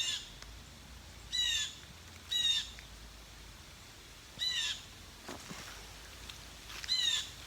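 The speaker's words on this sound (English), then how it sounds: "There's a very excited bird right above him." An excited bird squawks from the trees above a Maine yard in autumn, giving about five short, harsh bursts spaced a second or two apart, fairly close and clear over quiet outdoor background.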